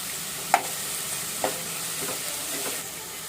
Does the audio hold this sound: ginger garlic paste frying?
yes